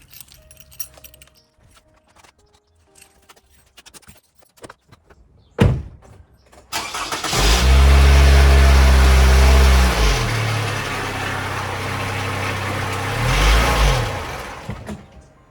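A Toyota Camry or RAV4 with the 2AR-FE four-cylinder engine cranks over and settles into a loud, steady idle in a garage after some quiet rustling and a door closing, the engine sound dipping briefly and rising again.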